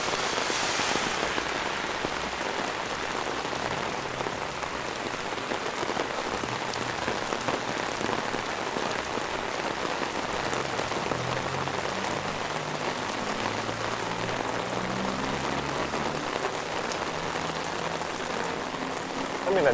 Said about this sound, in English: We got some heavy rain now,